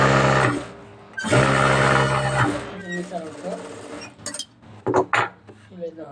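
A sewing machine stitches a wide seam on pyjamas in two loud close bursts of rapid whirring, followed by clinks, handling noises and a person talking.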